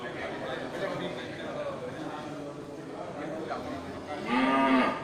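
Male Bali cattle being kept for fattening on a farm, one giving a loud, drawn-out moo near the end over a steady background of farmyard noise, with a person speaking.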